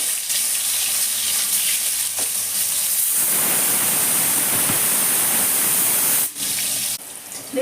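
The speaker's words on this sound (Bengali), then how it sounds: "এবার আমি দিয়ে দেবো বেগুন এখানে বেগুনটাকে ভেজে নেবো" Eggplant pieces hit hot white oil in a wok, a loud, dense, hissing sizzle that swells after a few seconds and continues steadily up close, with a short dip near the end.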